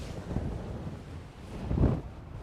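Wind gusting across a seaside golf course at Nefyn, a steady low rumble against the microphone that swells into a stronger gust near the end, with no voices.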